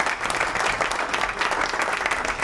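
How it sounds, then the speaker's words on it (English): A burst of applause sound effect from a soundboard, dense steady clapping from a crowd filling the short stretch at an even level with no talk. "You got the applause on the soundboard ready?"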